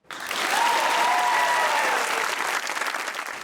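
Studio audience at a Pakistani comedy talk show bursting into loud applause, clapping swelling fast after a brief silence, then holding strong and dense with a faint crowd murmur beneath.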